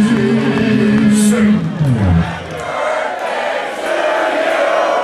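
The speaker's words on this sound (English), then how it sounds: "give both these motherfuckers a round of applause" A live crowd at a Superjoint Ritual metal show roars and cheers loudly, with a low sustained voice tone at the start giving way to a dense wash of shouting and applause.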